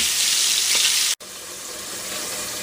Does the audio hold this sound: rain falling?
no